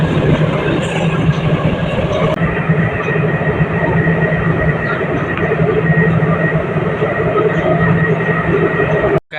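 Namo Bharat regional rail train between Delhi and Meerut, on an elevated line at over 100 km/h, gives a loud, steady interior rumble and rolling roar that cuts off abruptly at the end, with no voices.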